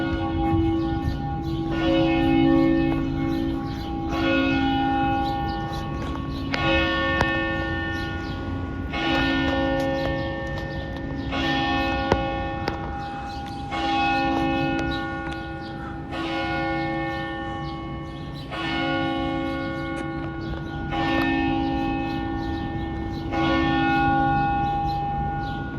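A church bell chime rings out in Washington, D.C., with repeated clanging strikes in regular bursts about every two to three seconds, resonant tones lingering between them, loud and fairly close.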